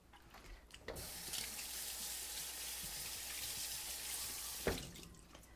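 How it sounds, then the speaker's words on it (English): Cutting board rinsed under a running kitchen tap, a steady hiss of water pouring for several seconds, bracketed by thumps as the board is handled and the tap is turned on and off. "I just wanted to rinse off my cutting board"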